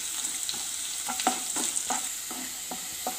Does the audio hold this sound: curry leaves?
yes